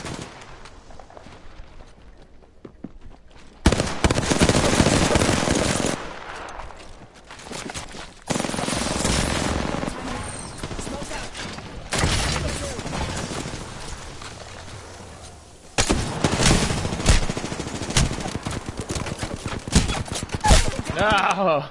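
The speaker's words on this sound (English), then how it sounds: "Oh, they're firing from over there." Video game gunfire from enemies erupts in loud, dense bursts of rapid automatic shots, with a quieter opening before the volleys begin and brief breaks between them, while a player talks over the action.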